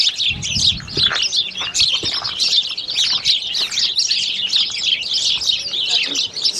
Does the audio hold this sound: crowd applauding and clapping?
no